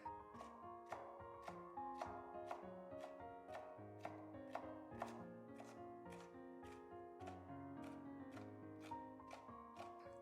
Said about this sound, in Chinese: 准备2个薄片青椒，然后从中间破开，将蒂给它去掉，里面的籽也去掉， 给它切成细丝